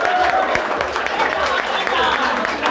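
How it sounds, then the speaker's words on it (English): Church congregation clapping hands during a restoration service, a dense steady burst of applause mixed with crowd voices and singing throughout. "Clap your hands and receive it."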